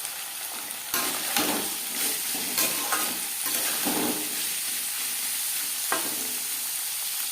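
Peas, carrots and beans stir-fry in a pan for vegetable fried rice, with a steady close sizzle and repeated scraping stirs from a spatula throughout. No one speaks.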